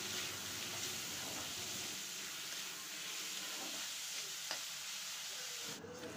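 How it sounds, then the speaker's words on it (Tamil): Steady sizzle of onions sautéing in an oil-filled pan with curry leaves, with occasional stirring scrapes, close and continuous, no voices. "ஒரு கொத்து கருவேப்பிலை சேர்த்துட்டு எல்லாத்தையும் நல்லா வதக்கிக்கலாம்."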